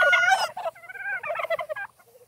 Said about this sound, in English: They've got the gobble.